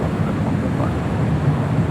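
A heavy jet departs LAX on runway 25 right, its engines a steady, broad low roar heard from a distance, constant and dense with a little wind buffeting the microphone.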